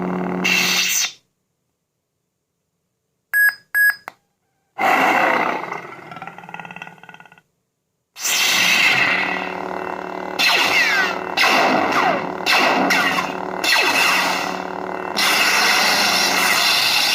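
A custom Obi-Wan Clone Wars style lightsaber plays its force push effect, loud roaring whooshes and hissing bursts separated by silent gaps and brief electronic beeps.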